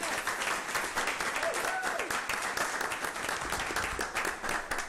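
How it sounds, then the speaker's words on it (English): Audience applause at a Jackson Public School District board meeting, steady dense clapping throughout, moderately loud and even, with faint voices mixed underneath. "So let's give them a round of applause."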